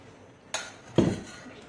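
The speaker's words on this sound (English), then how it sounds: "So I'm mixing the wet and the dry ingredients." Two sharp clinks of a utensil against a bowl while wet and dry batter ingredients for a ragi whole-wheat cake are mixed, close and fairly quiet with a pause between them.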